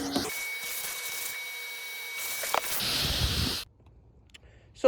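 A vacuum cleaner runs as a steady, loud whine with a faint tonal hum for several seconds during a roof rail install on a Mercedes Sprinter van, then cuts off abruptly, leaving near silence before a brief knock at the end.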